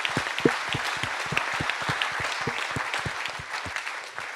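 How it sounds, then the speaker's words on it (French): Audience at a trades olympiad hairdressing event clapping for a competitor, a steady burst of applause from a moderate crowd that slowly thins out toward the end. "ça mérite largement des applaudissements."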